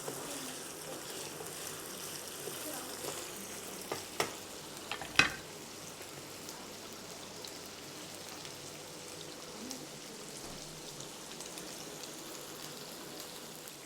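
Boneless chicken and garlic frying in a karahi pan, giving a steady soft sizzle throughout with a few light clinks and stirring knocks partway through, and no talking.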